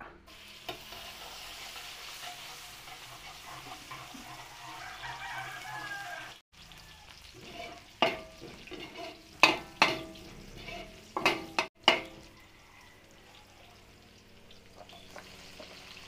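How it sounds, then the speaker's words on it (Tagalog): Garlic sautéing in cooking oil for chop suey gives a steady, close sizzle, broken midway by a run of sharp metal stirring scrapes and clanks against the pan. "Lagay tayo mantika, tayo po ay magigisa. Bawang muna."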